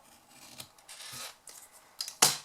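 Quiet, scattered snips and rustling of scissors cutting paper freehand, ending in one louder, crisp cut close by.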